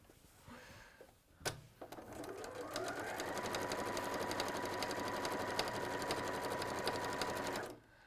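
A sewing machine quilts through thick foam in one long, steady, close run after a short knock, stopping abruptly at the end.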